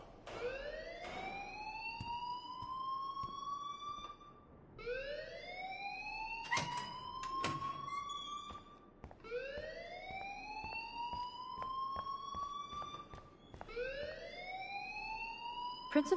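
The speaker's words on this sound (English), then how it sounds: "please turn off that alarm since that's your job" A rising and falling wail from an alarm in the video game Life is Strange, sweeping upward in long repeated cycles, steady and moderately loud, with sharp clicks and faint voices mixed in.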